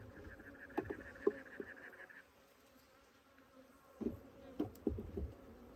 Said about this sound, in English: These are some little teeny bees